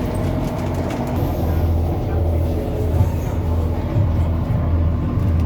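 A train in motion heard from on board, with a steady low rumble and continuous rolling noise throughout, loud and close, with faint talk underneath.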